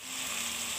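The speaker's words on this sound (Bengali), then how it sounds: "ফুলকপিটা আমি ঠেলে দিয়ে ভালো করে ভেজে নিব" Cauliflower frying in a pan for lentil curry, a brief, steady, dense hiss of hot oil sizzling up close with no breaks, and no speech.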